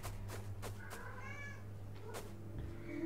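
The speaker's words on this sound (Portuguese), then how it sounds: "Esse gato não tá no jogo, né, galera?" A cat meows several times at moderate distance in a Brazilian Portuguese gaming session for the adventure game Hardland, its drawn-out calls standing alone over a steady low hum with no talk.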